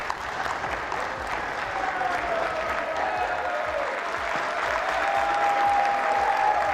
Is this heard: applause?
yes